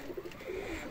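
Pigeons coo softly nearby, with a short, faint run of low, throaty coos in under a second and no talking.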